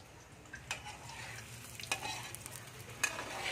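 Food frying in a pan is stirred until golden brown for a breakfast dish, with a soft steady sizzle under faint intermittent scrapes and clinks of the utensil, heard close and fairly quiet.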